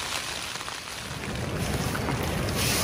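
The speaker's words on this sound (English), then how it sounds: "it starts pouring rain" Heavy rain pours down outdoors on a public-land bear hunt, making a dense, steady hiss that fills the whole scene. It grows slightly louder toward the end, with no voices.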